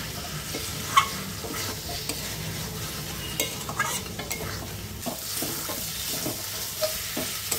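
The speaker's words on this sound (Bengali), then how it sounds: "গুঁড়ো মশলাগুলো দিয়েও 5 মিনিটের মতন কষিয়ে নেব।" Mutton sautés with ground coriander, cumin and black pepper for a mutton pulao, a constant low sizzle under repeated scraping and stirring strokes, one sharp metallic tap near the start, and no talking.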